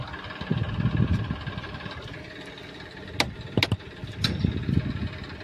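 A farm tractor idles with a steady low rumble. A few sharp metallic clicks and knocks break in partway through.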